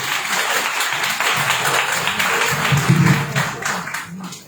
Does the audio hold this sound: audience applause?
yes